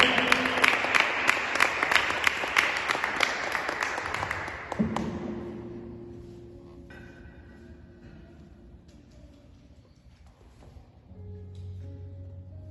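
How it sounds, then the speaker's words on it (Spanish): Church congregation clapping for the pastor during a worship service, a dense burst of applause that fades after a few seconds, leaving quieter room sound and murmuring voices. "¿Cuántos le dan palmas al Señor por la vida del pastor?"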